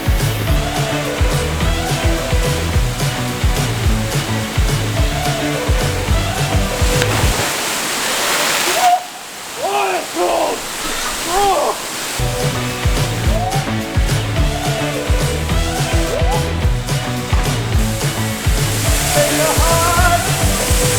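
A secret waterfall in Maui roars with loud, continuous rushing water that briefly drops away in the middle, then returns just as strong.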